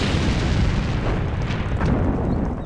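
Artillery fire and explosions in the World War II strategy game Sudden Strike 2 form a continuous, loud, rumbling barrage of booms with no speech over it.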